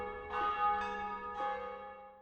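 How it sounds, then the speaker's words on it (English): A church-style bell tolls three times at a steady, unhurried pace in a GZDoom video game, each strike ringing out with a long humming decay under a steady tonal drone, with no voices. "The bell is ringing repeatedly"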